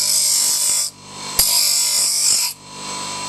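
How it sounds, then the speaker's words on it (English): A power tool grinds down an ABS plastic bar end mirror part that melts into a blob, a loud harsh whine in two long bursts separated by short pauses, with a sharp knock between them. "It's kind of quite hard to grind because it just melts and goes into snotty blob."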